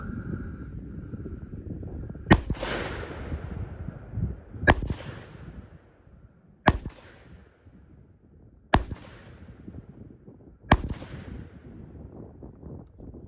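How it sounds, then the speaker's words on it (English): Five sharp .44 Magnum gunshots fired at a pumpkin crack out one by one, roughly two seconds apart, each loud and close with a brief decaying echo. "I'm gonna shoot it with a gun."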